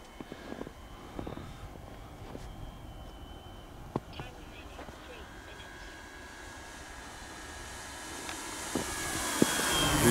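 Hangar 9 P-47 Thunderbolt balsa RC plane, a 58.4-inch fun-scale PNP model, flying on its maiden flight over snow. The steady motor drone grows louder toward the end, with scattered clicks and people talking in the background.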